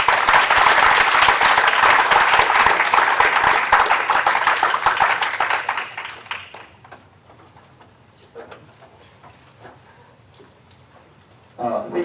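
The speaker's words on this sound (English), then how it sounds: "I would like to applaud all the speakers and participants who took into the discussion." A conference audience applauds the speakers and participants with loud, dense clapping for about six seconds, which then fades into near quiet with only a few faint scattered sounds.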